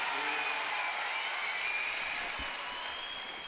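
A tennis crowd at the 2007 US Open quarterfinal between Federer and Roddick applauds steadily, with a broad, sustained wash of clapping that fades slightly toward the end, a few faint whistles threaded through it.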